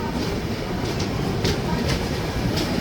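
Antyodaya Express superfast unreserved train running between Tambaram and Nagercoil, heard from on board as a steady loud rumble of wheels on rails with faint rhythmic clacks throughout.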